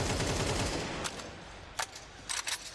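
Gunfire in a Counter-Strike match at a pro tournament: a couple of short, sharp bursts of shots, moderately distant, over a steady crowd and room noise.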